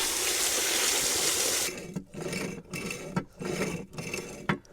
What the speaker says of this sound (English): put the end of the pump's hose into a bucket of water and tried the pump, and it doesn't seem to be doing anything. It's just sort of making a noise